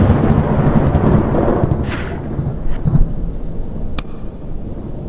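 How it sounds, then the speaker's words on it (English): Rain and thunder in the horror game The Joy of Creation: a steady wash of rainfall runs throughout, broken by two sharp cracks of thunder, one near the middle and one near the end, with no talk. "Because of the light, I mean the rain, thunder, lightning, Chica sounds and blah blah blah."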